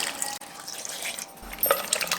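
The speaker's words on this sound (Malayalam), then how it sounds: "ഇതിലേക്ക് 1 ഗ്ലാസ് വെള്ളം കൂടി ഒഴിക്കാം" Water pours and trickles into a metal pressure cooker, a soft continuous splash with a few drips, fairly close and quiet.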